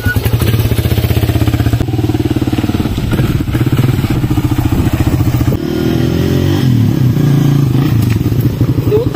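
A motorcycle engine idling loudly nearby, a steady rapid putter with slight shifts in pitch and some clattering.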